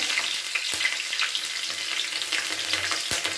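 Chopped garlic frying in hot oil for a Bengali kundru fry, a lively crackling sizzle with uneven spits and a couple of sharp pops from stirring, fairly loud and without voices.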